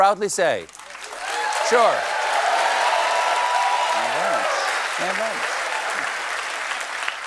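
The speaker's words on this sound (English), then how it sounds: "I'm never gonna stop you from applauding me." A late-night studio audience applauds in a broad, continuous roar of clapping, with a voice breaking through at the start and brief vocal bursts and cheers rising over the applause later on.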